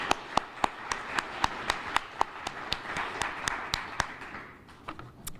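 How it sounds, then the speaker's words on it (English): Applause at a news conference held by U.S. Rep. Kaptur and local groups over a federal grant freeze, with sharp, evenly spaced individual claps standing out over a softer background of hands that fades toward the end. "Let's give them another round of applause."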